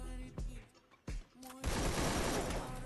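Rapid AK-47 gunfire in the Free Fire video game, played on PC, erupts into a loud sustained burst after a couple of short sharp shots and tonal game sounds.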